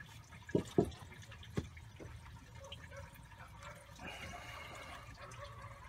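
Coolant water pours and splashes out of a radiator hose pulled off a 2005 Cadillac Escalade 6.0 during a radiator replacement. A few sharp clunks come first, then a steady, close trickle and gush of draining liquid.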